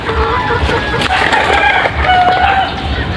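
Rhode Island Red chickens, a native egg-laying flock, cluck steadily nearby against a noisy barnyard background, with a brief crow-like call rising partway through.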